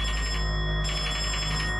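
A video game telephone rings in a continuous electronic trill that holds level for about two seconds with no pause between rings.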